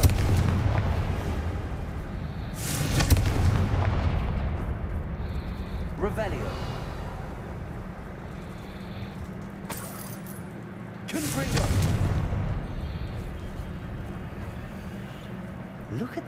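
Bombarda explosion spell in the Hogwarts Legacy game, heard as loud booming blasts that hit around the third and eleventh seconds, each decaying into rumble, with game ambience and a voice running underneath.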